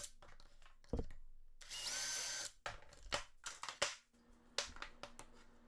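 A power drill drives Kreg pocket screws into wood for a miter stand, with a sustained high whine of about a second followed by several short bursts and clicks, close and fairly quiet.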